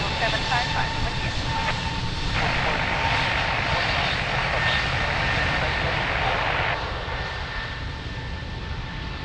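An airliner taking off from runway 02 at Lisbon Airport, a steady, loud, broad engine roar that swells slightly in the middle and then eases, with radio chatter from the tower underneath.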